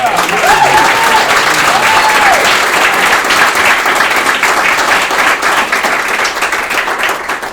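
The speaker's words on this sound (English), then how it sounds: "Let's give a round of applause to Kale Futterman." Sustained, loud audience applause for a panelist at a 2023 writers reception panel, steady dense clapping throughout with faint crowd murmur and no speech.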